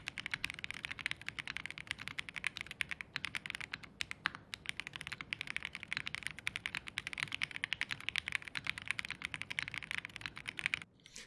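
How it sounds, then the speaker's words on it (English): Continuous fast typing on a mechanical computer keyboard without foam, dense rapid clacks with a slightly distant pickup, steady throughout with no talking. "It sounds like a keyboard."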